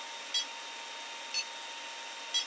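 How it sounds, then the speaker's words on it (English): A 3D printer gives three short electronic beeps about a second apart over a faint steady hum, quiet and mechanical, signalling filament runout. "So it's given some beeps and it says insert filament"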